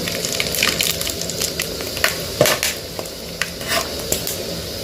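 Whole spices for a gongura chicken pulao drop into hot oil, giving a crackling, sputtering sizzle with scattered sharp pops over a steady hiss, close and fairly loud, without any talk.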